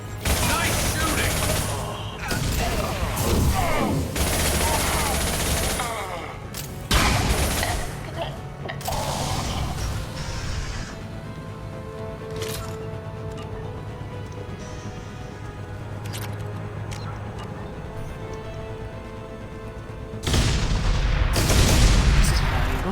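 Gunfire in Mass Effect 2 comes in bursts of loud combat shots and mechanical clatter, thinning out to scattered reports and a lingering hum before another heavy volley hits near the end, with some voices mixed in.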